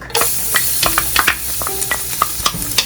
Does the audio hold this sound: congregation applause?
no